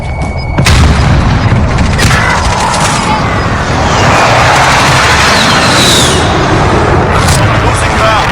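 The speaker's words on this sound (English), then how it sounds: "Enemy precision airstrike." Heavy booming explosions from an enemy precision airstrike in a battle royale video game, loud and continuous with rumbling blasts layered over gunfire-like cracks, with voices faintly present underneath.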